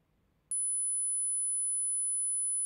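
A sustained 10,000 Hz test tone for a hearing check begins suddenly and rings on as one thin, steady, unwavering pitch over quiet background hiss, with no voices.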